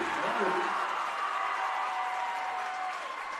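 Home crowd at a high school girls basketball game, Silver Creek versus Floyd Central, roars steadily after a game-tying basket, a dense sustained cheer and applause filling the gym with no clear break.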